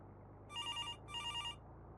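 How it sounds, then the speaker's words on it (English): A telephone rings in the air traffic control game Tower! Simulator 3, two short electronic trilling bursts separated by a brief gap, fairly quiet over a low steady hum. "Oh no, not the phone."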